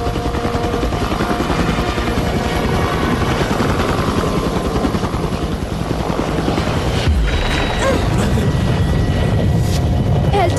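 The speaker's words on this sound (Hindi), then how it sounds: "देखो वो हेलीकॉप्टर है।" A helicopter roars loud and close, its rotor throbbing in a dense, continuous rumble that persists for the whole stretch with no pause.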